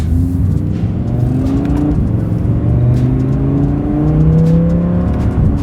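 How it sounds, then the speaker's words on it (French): A 2021 Audi R8 with a naturally aspirated V10, in dynamic mode with manual paddle shifting, accelerates hard on a road test. The engine roars loud and close, its pitch climbing through successive gears without pause. "Petit essai routier. J'ai mis le mode dynamique, la boîte en manuel avec les palettes."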